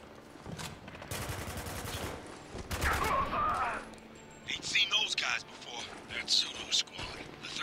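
Bursts of rapid automatic gunfire and scattered shots ring out in Spec Ops: The Line, with combat voices shouting in between and quieter pauses where sporadic rounds continue.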